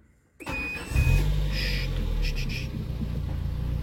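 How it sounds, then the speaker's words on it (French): A Peugeot 306 engine cranks briefly, then catches and settles into a steady low rumble, close by, with no voices. "je vais mettre un petit coup de démarrage"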